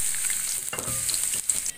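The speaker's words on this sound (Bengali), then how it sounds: "তেল গরম হয়ে গেছে, এবার রসুন কুচি আর পেঁয়াজ কুচিগুলি দিয়ে দিচ্ছি।" Chopped garlic and onion dropped into hot oil in a kadai, a bright hissing sizzle that stays steady and close, with a brief burst of stirring partway through.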